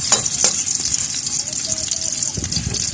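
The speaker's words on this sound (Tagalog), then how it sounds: "Ilalagay natin itong bawang mga kaboka. Hintayin natin siya mag-brown ulit." Garlic fries in a pan while seafood kare-kare is being prepared, giving a steady close hiss and crackle with a few sharp clinks, and no talking.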